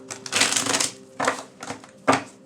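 A deck of tarot cards is shuffled by hand up close, with several short riffling and rustling bursts separated by brief pauses, and no talking.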